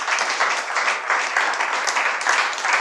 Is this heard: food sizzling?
no